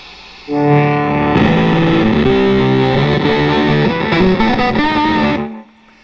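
Electric guitar through a Blackout Effectors Twosome pedal with the gain cranked and boost on, a loud, heavily distorted chordal riff ringing for about five seconds before cutting off.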